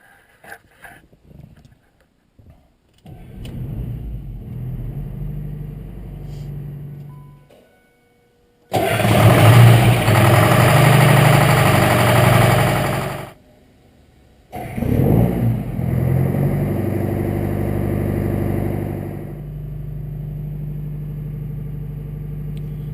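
A Detroit 4-53T diesel engine swapped into a 2009 Ford F350 pickup cranks and catches with a loud roar, then settles into a steady rumbling idle after a brief pause, heard close by.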